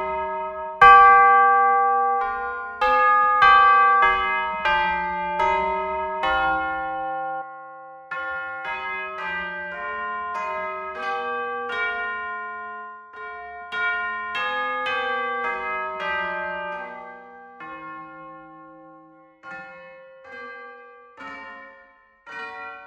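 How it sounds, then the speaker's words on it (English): Orchestral Tools Berlin Series sampled tubular bells ring out in a slow melodic sequence, each clear metallic strike sustaining and overlapping the next, like church bells, with no voices. "Then we have the tubular bells,"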